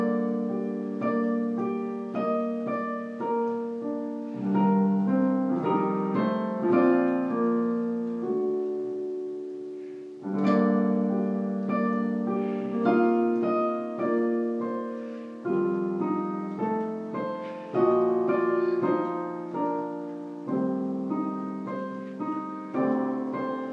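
A solo piano plays the opening section of a theme as a slow, legato melody over sustained low chords in gentle phrases, clear and close with no voices.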